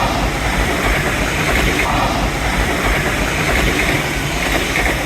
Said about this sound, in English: That was some sort of train with a purple thing on the front